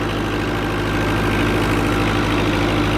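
A tractor engine idles on a village tractor outing, a steady low rumble with a faint knocking pulse, loud and close, running evenly throughout with no voices.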